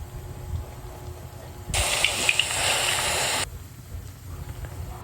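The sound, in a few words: frying banana skewers in plenty of oil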